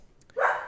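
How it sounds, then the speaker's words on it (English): A single short, fairly close bark from a dog reacting to someone walking past the house, heard on its own without talk. "My dog's barking at someone walking by."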